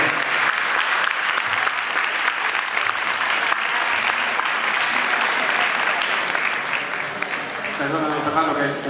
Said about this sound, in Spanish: nuestros amigos de Elche de la Sierra siguen con la alfombra de Serrín aquí a vuestra derecha y que merecen también un aplauso